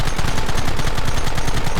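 Rapid gunfire in Red Dead Redemption rattles out as a fast, evenly spaced machine-gun burst, loud and continuous for under two seconds with no voices.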